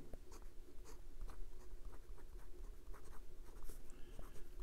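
Hero 565 fountain pen with a medium steel nib scratching across Clairefontaine 90 gsm paper, close and quiet, with irregular strokes and little taps continuing throughout without speech.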